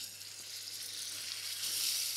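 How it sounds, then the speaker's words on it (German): Tournedos beef fillet, unsalted and unpeppered, searing in a preheated pan with a little oil, giving a steady soft sizzle and crackle without pause, close and fairly quiet. "Jetzt lasse ich es da langsam anbraten."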